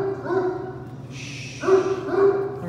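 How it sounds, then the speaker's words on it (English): A dog gives a few short, close barks and yips in separate bursts, with some background hiss between them. "that's the first time he's barked all weekend"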